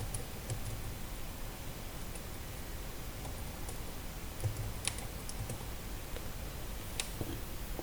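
Computer keyboard typed on during a software walkthrough, light scattered clicks over a steady hiss, quick bursts of keystrokes with short pauses, fairly faint and with no talking.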